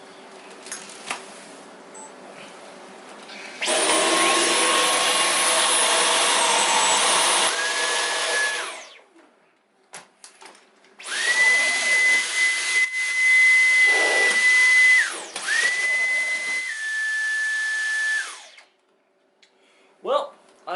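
A Dyson V11 cordless vacuum cleaner runs over soft carpet in loud broadband bursts, switching on and off several times, its motor whine rising in pitch during the later runs, with brief pauses between.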